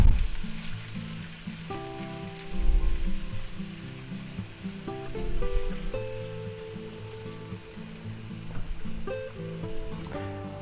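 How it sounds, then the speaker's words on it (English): Mild green poblano peppers and onions fry in a pan, with a loud, close, continuous sizzle and bursts of stirring, plus a background musical tone and no talking. "And we're going to put our mildly hot green poblano peppers in."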